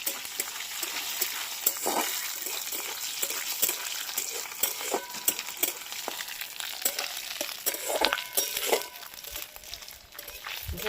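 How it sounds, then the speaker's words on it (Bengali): Bay leaves, cinnamon and green cardamom frying in hot oil for winter vegetable khichuri, a continuous bright crackling sizzle with repeated stirring scrapes, close and unvoiced. "দিলাম তেজপাতা আর দারচিনি আর ছোটো এলাচ সবকটা খুব ভালো করে ভেজে নেব"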